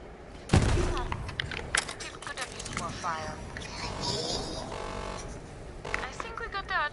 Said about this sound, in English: I am shooting it.